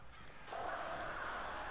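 Flock of birds attacking in the video game Alan Wake, harsh cawing and screeching rising over a dense, noisy game soundscape, steady and close for the whole stretch.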